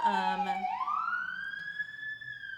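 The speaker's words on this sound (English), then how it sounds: "Sorry for the ambulance." An ambulance siren sweeps upward and then holds a loud, steady wail as it passes close by, sounding alone with no talk over it.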